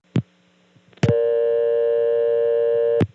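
A step-by-step telephone exchange in Birdsboro, Pennsylvania, in 1976, switching as a three-digit number is dialed: a few sharp mechanical clicks, then a loud steady tone lasting about two seconds, ended by another click.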